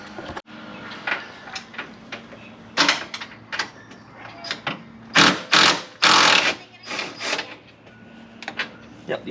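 An impact wrench removes a coilover bolt on a Nissan 370Z in a series of short, loud, irregular bursts close by, with a couple of stronger hammering blasts in the middle.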